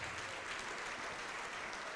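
Steady, dense clapping from a church congregation honouring the name of Jesus during a worship service, continuous and fairly distant across the whole stretch with no voices on top.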